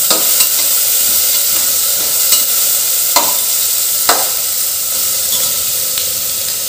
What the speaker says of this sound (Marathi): कांदा छान परतून घेऊ आपण तेलात